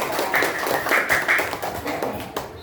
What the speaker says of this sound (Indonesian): Tepuk tangan untuk Mas Oscar.